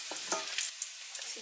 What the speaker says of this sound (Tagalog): Gisa natin yung bawang. Hanggang sa mag-brown.